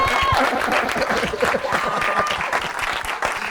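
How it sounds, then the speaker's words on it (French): A studio audience at a jazz TV show claps together, a busy mass of hands with some voices mixed in, loud and continuous throughout. "peut-être qu'on peut un peu mimer l'applaudissement de Londres ce jour-là"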